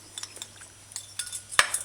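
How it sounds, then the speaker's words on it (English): A spoon scrapes and clinks through a cornstarch slurry being stirred for General Tso's chicken: faint, irregular taps against the bowl, ending in a brief sharper clatter near the close. "I'm just stirring it up"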